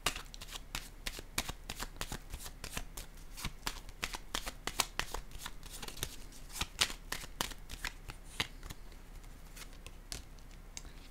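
Cards are handled on a table during a card reading, producing a dense stream of crisp, close riffling flicks and snaps like shuffling that runs the whole stretch without pause.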